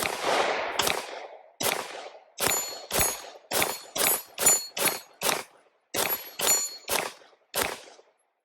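A gun fires Fenix frangible ammunition at a steel target, giving a quick string of more than a dozen sharp shots. Each report rings with a metallic clang from the steel, and the shots come in an uneven rhythm with short gaps.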